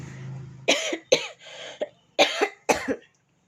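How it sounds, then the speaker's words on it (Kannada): A person coughs in several harsh bursts, a pair, then a single cough, then another pair, close to the listener with short pauses between. "ಹಾಗಾಗಿ ಕೆಮ್ಮು ಬಂತು ಕ್ಷಮೆ ಇರಲಿ"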